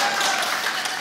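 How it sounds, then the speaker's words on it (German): Audience applause at a panel discussion event, a loud, dense burst of clapping filling the whole short moment at close range. "dafür kann man auch mal Applaus geben"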